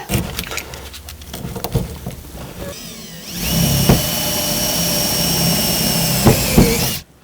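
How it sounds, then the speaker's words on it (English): A power drill bores through carpet and the sound-deadened floor of a Mitsubishi 4x4 Ram 50 pickup, first rattling and knocking, then settling into a loud, close, steady whine before cutting off abruptly. "When you're drilling through carpet or cloth, it'll go, oh yeah."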